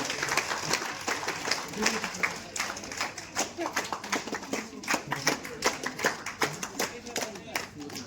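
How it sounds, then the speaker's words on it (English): Audience applause at an international club installation ceremony, a steady patter of many hands clapping at moderate distance that thickens into rhythmic bursts, with voices heard in the background. "Clap, put your hands together"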